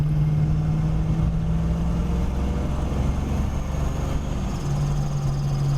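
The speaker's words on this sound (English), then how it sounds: "You can hear the blower." Supercharger blower whine on a 1993 Foxbody Mustang 5.0 cruising the streets of Fort Lauderdale, a steady loud engine drone with a faint high whine running throughout, no talking.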